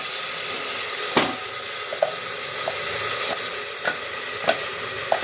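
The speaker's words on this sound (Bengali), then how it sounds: "এবার দেখো তেল গরম হয়ে যাচ্ছে, প্রেসার কুকারে দিয়েছি তেজপাতা, পেঁয়াজ রসুন আদা," Bay leaf, onion, garlic and ginger frying in hot oil inside a pressure cooker, a steady close sizzle broken by a few soft clicks and stirring knocks.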